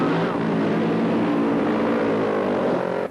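A Supergas drag racing car with a Joe Pisano motor makes a run at Santa Pod, its engine a loud, sustained roar with rising harmonics that holds for a few seconds before cutting off abruptly.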